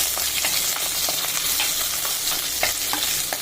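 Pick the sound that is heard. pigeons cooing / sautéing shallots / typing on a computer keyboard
sautéing shallots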